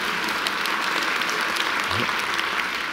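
Steady, dense applause from an audience at a church lecture on the End Times, filling the whole stretch at an even, fairly loud level with no break.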